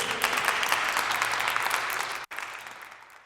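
Loud, sustained applause from an audience, dense clapping that briefly cuts out near the end, then resumes slightly softer.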